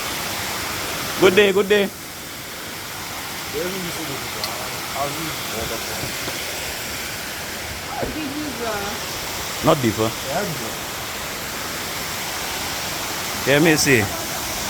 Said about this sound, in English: That's how the RiverRock Waterfall looking today.